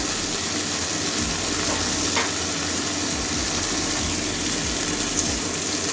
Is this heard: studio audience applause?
no